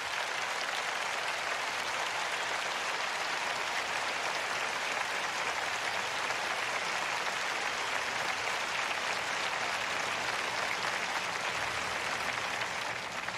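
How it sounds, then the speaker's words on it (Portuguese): A church congregation applauds in praise during a service, a steady, dense wash of many hands clapping that holds evenly for over thirteen seconds with no voices standing out. "Você pode dar uma salva de palmas ao Senhor."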